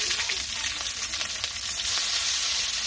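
Cumin seeds and green chilies frying in hot oil in a pan, a steady close crackling sizzle throughout with no voices.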